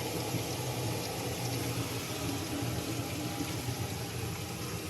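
Hot and cold water runs steadily from kitchen sink taps during a house inspection in Edinburgh, Scotland, a continuous broadband rush with no pauses and no talking.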